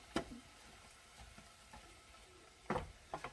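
Sauce seasoned with salt cooking in a pan for baked spaghetti, a faint, quiet sizzle with a few sharp clicks of a utensil against the pan near the start and near the end.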